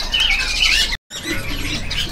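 White-rumped shama (murai batu) singing at a bird market, close and loud, with rapid high warbling phrases broken by a brief pause before the song resumes more softly.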